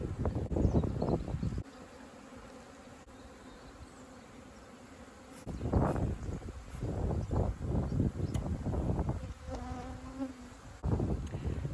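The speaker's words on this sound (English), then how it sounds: "Now there are many bees on there." Native honeybees buzz loudly and close during a hive rescue in Manacor, Mallorca, in a dense, fluctuating swarm drone that swells and fades in bursts, with occasional rustling as the bees are handled.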